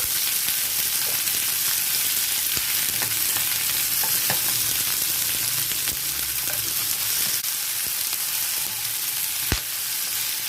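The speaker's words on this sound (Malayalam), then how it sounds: "ഗീ നന്നായിട്ട് ചൂടായിട്ടുണ്ട്. അതിനകത്തോട്ട് ക്യാപ്സിക്കം കട്ട് ചെയ്തത്, ഓണിയൻ സ്ലൈസ് ചെയ്തത്, നന്നായിട്ട് 1 മിനിറ്റ്" Sliced onion and cut capsicum fry in hot ghee for kadai paneer, giving a loud, steady, close sizzle with occasional sharp clicks from stirring.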